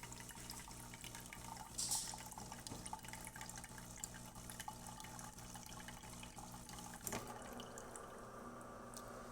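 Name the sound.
DeLonghi Eletta Explore coffee machine rinsing cycle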